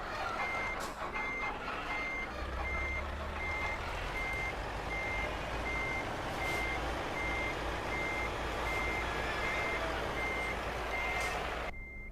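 In Euro Truck Simulator 2, a truck with a trailer backs up, its reversing alarm beeping in an even, regular rhythm over a low, steady engine rumble.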